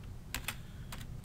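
A few quick keystrokes on a computer keyboard while entering values into an Excel spreadsheet: two separate pairs of sharp, close clicks with a short pause between them against a soft background hiss.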